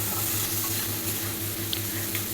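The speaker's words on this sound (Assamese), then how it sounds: "এতিয়া পনীৰখিনি এনেকৈ ভাজি ল'ম" Paneer fries in a pan, a steady close sizzle of hot oil with a soft rhythmic stirring or scraping pulse beneath it and no talk.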